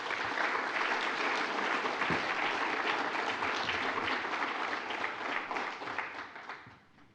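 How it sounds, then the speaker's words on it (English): An evening crowd applauds everyone present: a thick, even wash of many hands clapping that holds steady for several seconds, then thins out and fades away at the close. "if we can get a round of applause for all the people that are here tonight"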